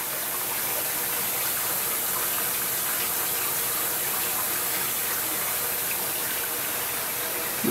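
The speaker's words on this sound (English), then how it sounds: "Now this slurry coming out of the bottom there, as you can see, is relatively thick." Thick slurry of water and glass beads pours from the bottom of a vapor blasting cyclone, a dense, steady close gushing and splashing that runs unbroken throughout.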